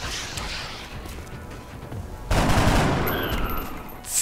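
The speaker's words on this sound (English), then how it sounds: "Yeah, we want to fire at him." A soldier fires a gun in XCOM: Enemy Unknown, with a sudden loud burst of gunfire that rings out for a couple of seconds over quieter game ambience.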